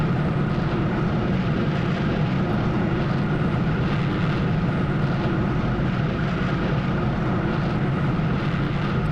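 Steady, loud engine drone from F-15 fighter jets in a PvP combat flight game, a continuous roar with no break and no voices over it.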